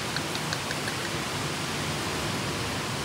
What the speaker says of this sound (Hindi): अंदर बारिश हो रही है बहुत भयंकर।